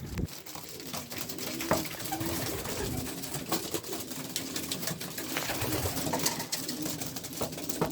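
Homing pigeon chicks cooing in a loft, soft repeated coos heard against a steady busy background of birds and rustling, fairly faint and continuous throughout.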